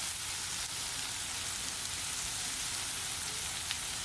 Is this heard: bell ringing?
no